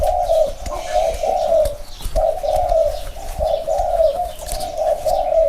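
A spotted dove calls nearby, repeating a soft, low cooing phrase in a steady rhythm of about five rounded notes, with faint chirps and light background noise underneath.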